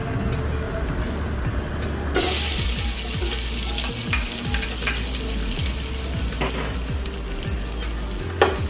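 Garlic drops into hot oil in a heated cooking pot for pork pochero, bursting into a loud, steady sizzle that continues close up, with faint ticking and clinks underneath.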